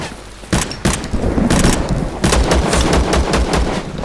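Rapid automatic gunfire in the post-apocalyptic survival shooter ZERO Sievert, loud repeated bursts of shots in a steady stuttering rhythm filling most of the stretch, with no talk over it.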